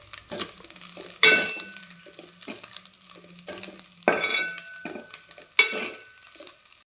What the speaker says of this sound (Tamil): வடித்து வச்சிருந்த சாதத்தையும் சேர்த்து நம்ம மிக்ஸ் பண்ணிடலாம்.